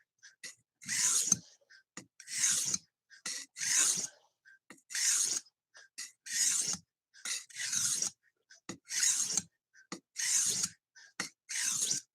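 A knife blade is drawn across a sharpening stone in steady, rhythmic strokes, about a dozen crisp raspy scrapes separated by short pauses, close and fairly quiet.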